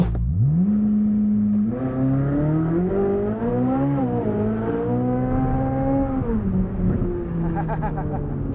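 A powerful naturally aspirated, nitrous-equipped 800-horsepower Corvette engine revs up and climbs in pitch, holds a loud roar, then settles down with rising and falling tones.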